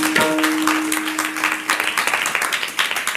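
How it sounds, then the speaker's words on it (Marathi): An audience at a kirtan claps together, starting in a dense burst over a brief held tone, then thinning into scattered, rhythmic hand claps near and moderately loud. "म्हणून म्हटलं एकदा टाळ्या वाजवा."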